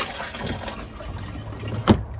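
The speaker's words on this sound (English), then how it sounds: "When you lift the seat cover here to flush, you pull this lever," Thetford RV toilet flushing inside a 2014 Mercedes Sprinter campervan conversion: a steady rushing water wash with a short, louder gurgling surge near the end, then a sudden stop.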